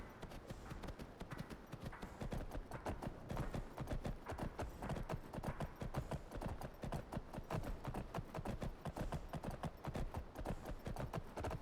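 Horse hooves clip-clopping in the video game Skyrim, a steady rapid trotting rhythm of hoof beats that continues evenly throughout, moderately quiet and without talk.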